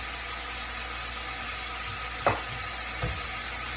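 Steak sizzles and fries steadily in a pan for steak fried rice, a constant hiss with two brief scraping stirs near the end.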